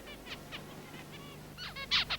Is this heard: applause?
no